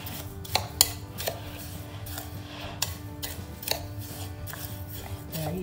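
Rosemary and lavender bath salts stirred in a container, giving soft gritty scraping broken by a handful of sharp clinks and taps at irregular moments, fairly quiet, with no talking.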